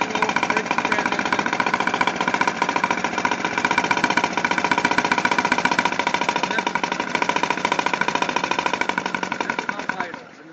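A 1Valve engine idles on propane, a steady, fast, rhythmic knocking chug that stays loud and even throughout before cutting off abruptly at the end.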